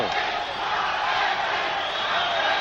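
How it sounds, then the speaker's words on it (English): Boxing arena crowd in Miami, largely Hispanic, roars and cheers at the start of round 2, a dense continuous wall of shouting with no gaps. "You can hear the crowd largely Hispanic, of course"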